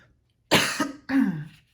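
Two sharp coughs ring out close by, the second rougher and throatier, separated by a short pause in otherwise quiet surroundings.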